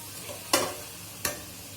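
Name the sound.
stir-frying hilsa head with taro stolons in a pan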